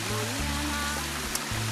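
Water and soil wash over a small-scale gold-mining sluice in a rainforest, a steady rushing flow with low rumbling churn that runs continuously and close up.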